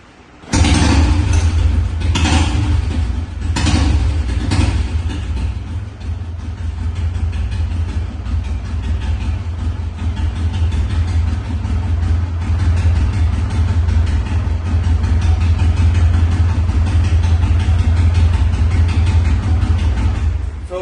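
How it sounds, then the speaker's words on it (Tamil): A 1989 vintage motorbike engine fires up with a few sharp revs, then settles into a steady, loud, low idle that runs on without a break. "நான் ஸ்டார்ட் பண்ணி காமிக்கிறேன். இன்ஜின் சவுண்ட் கேளுங்க"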